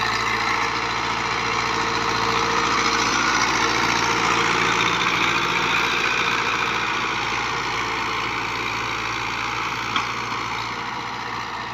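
A New Holland 640 tractor works a disc implement on damp morning ground, its engine labouring in a steady, continuous low drone while the wheels slip.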